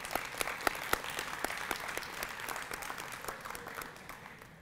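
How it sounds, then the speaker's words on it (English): Applause at a dual enrollment celebration ceremony for students: a crowd clapping steadily with sharp individual claps standing out, tapering off slightly toward the end. "Can I get a round of applause?"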